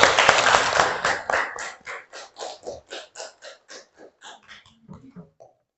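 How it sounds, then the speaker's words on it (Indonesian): Small group clapping for Meli during an Indonesian talk on managing emotions, starting as a dense burst and thinning into about a dozen separate, evenly spaced claps that slow and fade within a few seconds. "tepuk tangan dulu untuk Meli"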